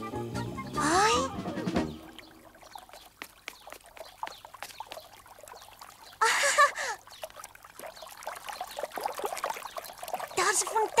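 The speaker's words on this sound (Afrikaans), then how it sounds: "Daar's 'n fontein." Fresh, icy water trickles from a fountain in an Afrikaans-dubbed Heidi cartoon, a soft continuous splashing stream running underneath, with voices speaking in short bursts over it.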